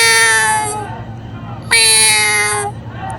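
A man imitates a cat's meow at the Mahakumbh gathering in Prayagraj, giving two loud, drawn-out, whiny calls separated by a short pause, with low background hum beneath.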